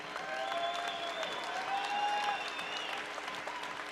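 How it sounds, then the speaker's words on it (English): An arena crowd applauds after a three-round 105-pound women's cage fight at a charity fighting championship, with a sustained wash of clapping at a moderate distance and a few whistles and cheers. "one more round of applause for a great fight."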